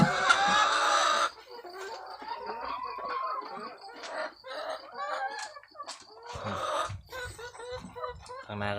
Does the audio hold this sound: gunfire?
no